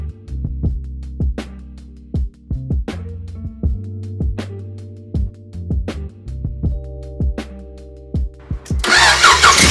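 A Honda Prelude's engine cranks repeatedly in short rhythmic bursts, a whirring starter churning over and over, then catching into a rougher, noisier roar at the end.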